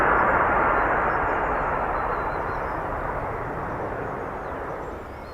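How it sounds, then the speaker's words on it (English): An F-35B Lightning jet makes a vertical landing at RAF Marham, a loud, steady engine roar heard outdoors that fades gently as it continues, with no voices. "Vertical landing, ladies and gents."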